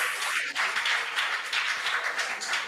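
Steady applause from a school contest audience fills the whole stretch, a dense wash of many hands clapping at an even level.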